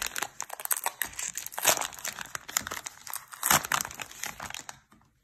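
A 2021-22 Donruss basketball fat pack wrapper is torn open, giving close crinkling and tearing of foil plastic in bursts, louder rips mid-way, then fading quiet.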